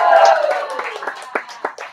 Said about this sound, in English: big round of applause for Seth and for Kelly